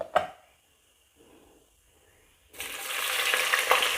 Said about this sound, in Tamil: இப்போ இதில் நம்ம வெங்காயம் நறுக்கி வச்சுருக்கோம் இல்லையா, அந்த வெங்காயத்தை சேர்த்துக்குருவோம்